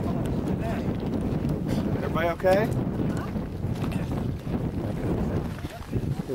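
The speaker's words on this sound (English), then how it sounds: "it's real windy in this valley." Wind rushes through a desert valley at Tonto National Monument on a hiking trail, buffeting the microphone with a constant low roar while a person speaks briefly.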